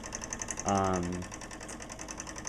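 A small hobby engine runs with a rapid, even mechanical ticking, and a voice speaks briefly over it.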